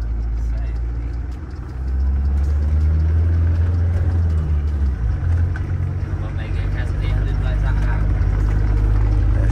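A Ford truck drives along a dirt road, its engine giving a loud, steady low rumble that dips briefly and then holds strong, with people talking over it.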